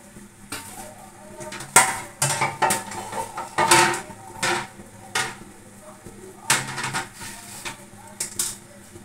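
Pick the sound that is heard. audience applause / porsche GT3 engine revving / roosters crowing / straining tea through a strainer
straining tea through a strainer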